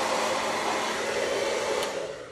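A hair dryer blows steadily at close range, drying paint on a candlestick, a constant airy whir that fades slightly at the end.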